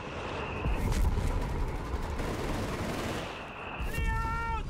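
Battle sounds from the strategy game Company of Heroes 3, a dense continuous clatter of machine-gun and autocannon fire with rumbling explosions, plus short tonal game cues, heard without talk.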